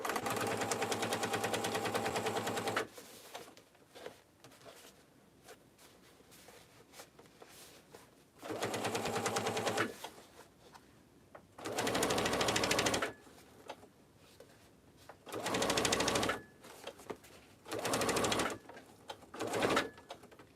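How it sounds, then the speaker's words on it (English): A sewing machine bastes the side of a tote bag in several runs of rapid, even stitching, the longer bursts at the start and shorter ones later, separated by quiet pauses, with no talk. "I'm just going to baste the other side."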